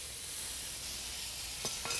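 Rice being stir-fried in a heavy Chinese wok at a Chinese restaurant for fried rice, giving a steady close sizzle with a couple of sharp scraping clatters near the end.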